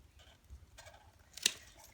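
Kale stems are cut right at the base in a home garden, giving one crisp, close snip amid faint rustling and quiet background hum.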